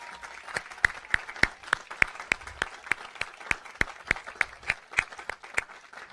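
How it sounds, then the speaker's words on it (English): Sparse, scattered clapping from a small group at a high school commencement, a couple of dozen uneven claps over several seconds, fairly quiet and somewhat distant. "Let's give them a round of applause."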